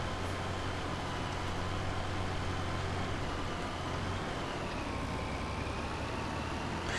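A tractor engine in Farming Simulator 25 drones steadily and evenly throughout, a constant low motor hum with no pauses or speech.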